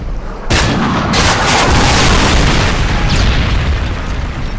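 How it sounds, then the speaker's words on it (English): A Predator missile from Modern Warfare 3 strikes with a sudden loud boom that swells into a long, roaring, rumbling blast and slowly fades. "Predator missile inbound."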